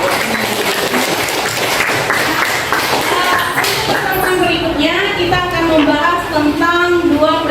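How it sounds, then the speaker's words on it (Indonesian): A classroom of students claps for the day's lesson, a dense burst of close applause that continues for several seconds while voices talk and call out over it. "Beri tepuk tangan untuk pembelajaran kita hari ini"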